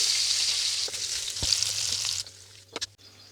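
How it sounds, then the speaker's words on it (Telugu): Finely chopped green chillies and onions frying in hot oil in a pan, a steady loud sizzle that drops away partway through, followed by a couple of brief stirring knocks. "ఇప్పుడు మనము సన్నగా తరిగిన పచ్చిమిర్చి, ఆనియన్స్ అయితే వేసుకొని బాగా ఫ్రై చేసుకోవాలి."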